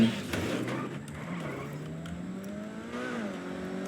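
A Corvette C8 sports car in a video game revving, its engine tone climbing and falling in pitch through shifts, close and steady, with faint tire noise and no talk.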